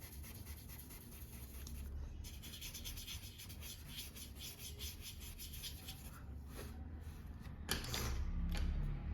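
A brush blends charcoal tones on drawing paper, making soft, close, continuous rubbing and brushing strokes in a quiet room.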